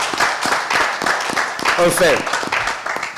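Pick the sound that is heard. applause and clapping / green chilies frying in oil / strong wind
applause and clapping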